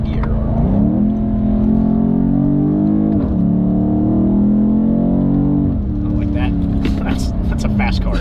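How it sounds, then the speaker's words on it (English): A 2020 BMW M850i Gran Coupe accelerates hard in manual sport mode with its exhaust valves open, a loud throaty engine note rising through gears with brief shift dips, heard from inside the cabin under occasional talk. "I can already tell the valves opened up. The exhaust already sounds a little throatier."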